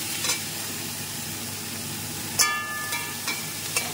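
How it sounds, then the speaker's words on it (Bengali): Dry red chillies and five-spice (panch phoron) stirred in hot oil in a pan for a potato curry, a steady close sizzle of frying with several sharp scraping stirs of a spatula partway through. "আর একটু শুকনো লঙ্কা আর 5 ফোড়নে দিয়ে একটু এটা নাড়িয়ে নিচ্ছি।"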